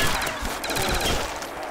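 A loud, continuous rattle of gunfire from a World at War custom zombies map fills the short stretch, dense and unbroken with no talk over it.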